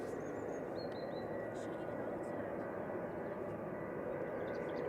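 A Boeing 737-800 jet airliner departs for Paris, a faint, steady engine roar in the distance with a few bird chirps and small clicks over it.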